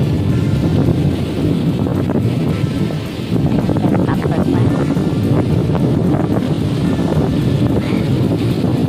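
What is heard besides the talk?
strong wind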